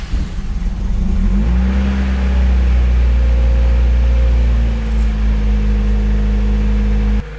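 A Honda CRX engine cranks and catches at about one second, then settles into a loud, close, sustained running drone with slight rev changes and no voices.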